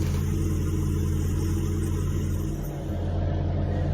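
A tractor engine drones steadily while pulling a planter back and forth across a field sown with Sudan grass; the low, even hum holds throughout, close and unbroken.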